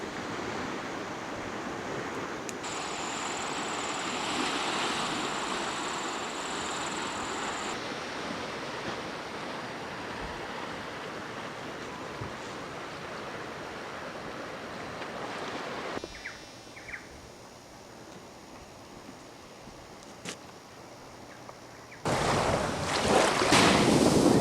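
Surf washing onto a deserted beach with steady wind noise over the microphone, a continuous wash that thins out for a stretch before a louder gust of wind at the end; no voices.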